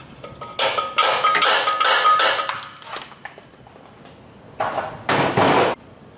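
A hammer driving an extractor socket onto a rusted exhaust bolt on a car, a fast run of sharp metallic strikes followed by a pause and a second short burst of hits, close and loud.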